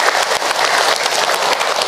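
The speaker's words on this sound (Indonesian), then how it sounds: "Tepuk tangan buat bunda yang sudah bertanya" An audience at an Islamic religious talk applauds, a dense, loud, even clapping that holds steady for about two seconds and then cuts off abruptly.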